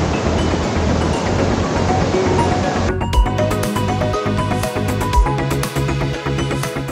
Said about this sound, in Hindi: थोड़ा ही आगे जाने पर पानी गिरने की जबरदस्त आवाज आने लगी। हम समझ गए कि आगे एक और बड़ा वॉटरफॉल है।